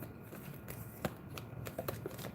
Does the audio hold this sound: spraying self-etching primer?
no